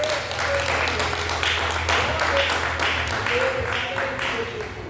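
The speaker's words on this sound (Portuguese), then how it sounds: "Pode aplaudir o Senhor Jesus." Church congregation applauding steadily in praise, a dense, continuous wash of clapping from a full room, with a low hum and some voices underneath.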